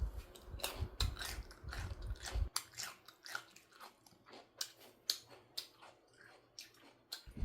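Crunchy homemade Korean pickled garlic (maneul jangajji), aged a year, is chewed close to the mic, with loud crisp crackling bites at first, then a long run of rhythmic crunchy chews.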